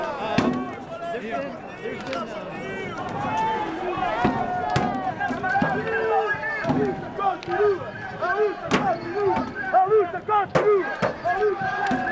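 Fireworks, paving stones and bottles are hurled at police during a November 14th street protest in Lisbon, Portugal: sharp bangs and cracks burst repeatedly through a dense crowd din of shouting and whistling voices.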